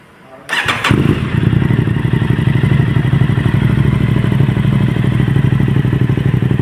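An Aprilia RS 660 motorcycle engine cranks and fires up, then settles into a loud, steady idle with a deep, throaty rumble.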